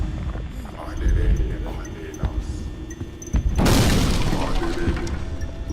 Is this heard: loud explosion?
yes